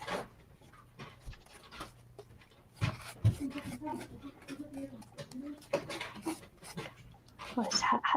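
Small house dogs panting and giving brief yaps and whimpers nearby, intermittent and fairly soft, with people talking over them.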